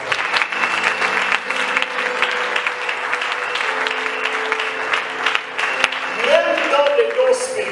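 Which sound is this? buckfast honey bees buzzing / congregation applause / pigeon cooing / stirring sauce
congregation applause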